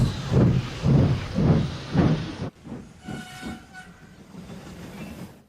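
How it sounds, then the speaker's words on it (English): A steam engine chuffs in four heavy, rhythmic puffs, then softer hissing follows with a faint, thin whistle tone in the background. "the conductor blew his whistle"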